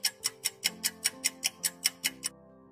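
A clock ticks steadily through time compression in the UBOAT submarine game, about a dozen crisp, evenly spaced ticks roughly five per second, close and clear over a faint low tonal hum, then stopping abruptly.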